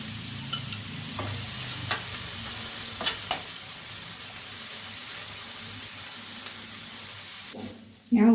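Three chopped tomatoes dropped into masala frying in oil left from fried onions for chicken vindaloo, a steady sizzle with intermittent scraping stir strokes, ending in a louder burst of hiss and clatter.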